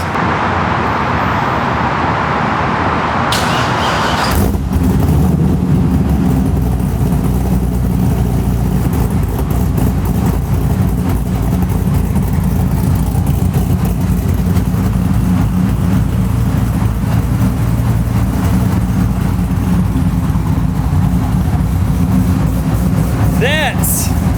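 Chevrolet Corvette C6 engine running after start-up: a sharp cranking burst, then a steady loud idle rumble that continues throughout, with people talking nearby over it.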